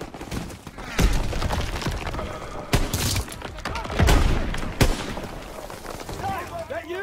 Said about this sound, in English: Gunfire! He must be near our guys.